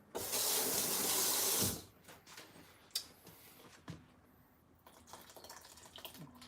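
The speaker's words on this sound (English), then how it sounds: "if I add a little bit more water" Water pours in a loud rushing stream for about two seconds while making a smoothie, then stops, followed by scattered clicks, taps and light handling noises of the blender jar.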